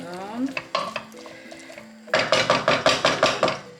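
Potatoes and carrots turned in a frying pan for a Turkish forest kebab, a quiet start with a few knocks, then a run of loud, regular scraping strokes with sizzling underneath.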